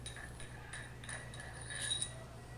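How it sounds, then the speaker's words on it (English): Ratchet driving a 13mm socket to tighten bolts on a pump while its packings are serviced, a soft run of mechanical clicks set over a steady low machinery hum. "Use a ratchet with a 13mm socket to tighten each of the bolts"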